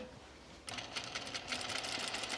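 A sewing machine starts up and runs in a rapid, even stitching patter, stitching the interior corners of a dress yoke, close and clear after a brief quiet moment.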